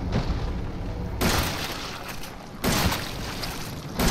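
Two heavy booming shotgun blasts ring out in Resident Evil 7 during a boss fight against a creature with giant pulsating eyeballs, spaced about a second and a half apart, each followed by a dense roaring tail.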